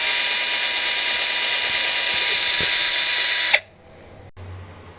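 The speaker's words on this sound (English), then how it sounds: "I'm going to create a pilot hole and I'm going to drill right through it." A cordless drill whines steadily at high speed, boring a pilot hole through crown molding for about three and a half seconds, then cuts off sharply, leaving a quiet room with a faint low hum.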